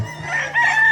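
A rooster crowing at a game farm, a single loud, close, drawn-out crow lasting about a second over a low background hum.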